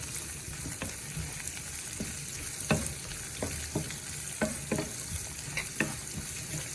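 Green chillies are stirred and fried in a pan, with a steady sizzle punctuated by repeated spatula knocks and scrapes at an uneven rhythm.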